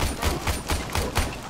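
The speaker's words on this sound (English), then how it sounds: "He's shooting you." Rapid gunfire in the video game Warframe on a Venus defence map, a steady rhythm of about six heavy shot bursts evenly spaced, loud and close with no speech over it.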